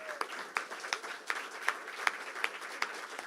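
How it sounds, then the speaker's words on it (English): Sparse, faint applause from an audience at a poetry awards event, with a handful of evenly spaced claps sounding at a steady rhythm. "Please give a warm round of applause for a woman who needs no introduction, Amanda Earle."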